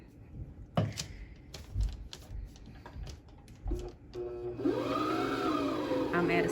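Brother XL5340 sewing machine stitching, with scattered clicks and handling knocks before the motor settles into a steady, fairly loud whirring whine for the last couple of seconds.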